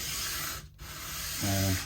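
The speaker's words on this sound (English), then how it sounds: "So there's a bit of sanding." Brief scratchy rubbing of sandpaper on a surface to make a flat, perpendicular face, a dry abrasive hiss with a short pause partway through.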